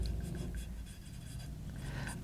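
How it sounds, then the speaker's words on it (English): A pen scratches steadily across petition paper, close and quiet, a continuous soft scribbling texture with no talking over it. "So you write your petition on your petition paper"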